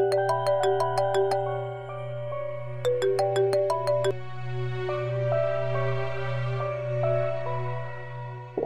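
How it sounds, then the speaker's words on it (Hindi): A mobile phone ringtone plays a bright, repeating electronic melody of chiming notes in short bursts, loud and close, with a steady low hum underneath and no speech. "फोन उठाएं"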